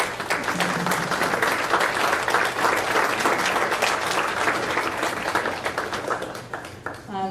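A crowd applauds loudly and steadily for several seconds at a school board meeting, dense clapping that tapers slightly at the end.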